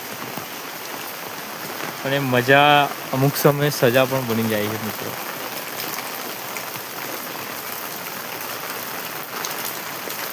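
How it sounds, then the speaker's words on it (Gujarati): Rain pouring steadily in a village, a dense, even hiss of drops on surfaces that runs throughout, with someone talking over it for a few seconds. "આ લાઈવ વરસાદ ચાલુ છે અત્યારે"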